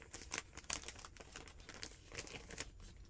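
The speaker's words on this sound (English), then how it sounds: "I want to use the remainder of my plastic bags" Plastic bags crinkle and rustle continuously under handling, dense crackly bursts rising and falling close to the mic at low volume, with no one speaking.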